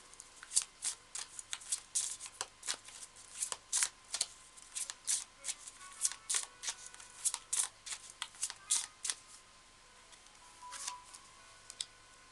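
Tarot cards being shuffled in a series of crisp, rhythmic riffles and flicks, close and fairly loud, with no talking.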